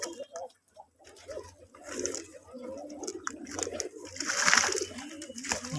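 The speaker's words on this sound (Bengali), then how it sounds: "এটা 5 জোড়া এক গোসল করাইতেছে কবিতরে।" Domestic pigeons at a pigeon farm are being bathed, with soft cooing and fluttering, splashy patter and wing flaps that grow busier toward the end, against faint background noise.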